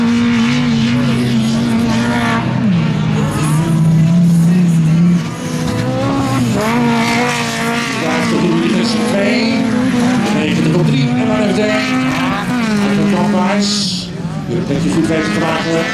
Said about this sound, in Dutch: In de Audi TT, we gaan richting de finish.